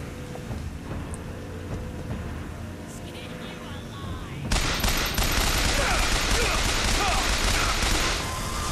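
Turret gunfire in the video game BioShock Infinite breaks out halfway through as a loud, sustained rattle of rapid shots over low machinery rumble, with someone talking throughout.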